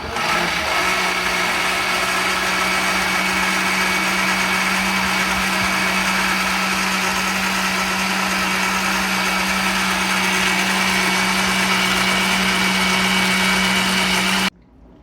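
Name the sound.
blender pureeing hot homemade tomato sauce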